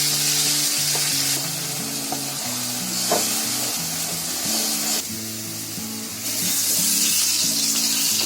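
Ground mint masala and cashews fry in a pan over low heat for pudina rice, a loud continuous sizzle with faint stirring clicks and a steady low hum underneath.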